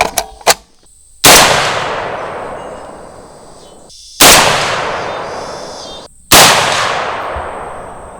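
HK MR762 LRP semi-automatic rifle fired with Hornady ELD-X ammunition outdoors: three sharp, loud gunshots spaced a few seconds apart, each with a long decaying echo, preceded by small metallic clicks.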